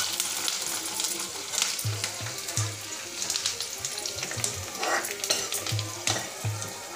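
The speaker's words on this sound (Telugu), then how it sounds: "కరివేపాకు వేస్తున్నాను, కరివేపాకు వేస్తున్నాను, కమ్మని వాసన వచ్చిందండి." Curry leaves frying in a pan while making tamarind-leaf dal, giving a steady close sizzle and crackle with occasional soft clinks and stirring knocks.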